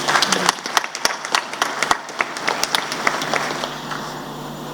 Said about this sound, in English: I think our faculty deserve a round of applause.